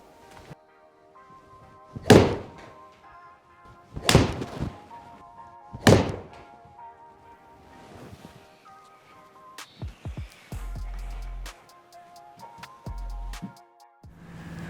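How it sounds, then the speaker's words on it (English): Hot Metal Pro irons striking golf balls in an indoor studio, three sharp loud club impacts spaced about two seconds apart followed by softer thumps and clatter, no talk. "So that's 5 shots there in the studio with each iron"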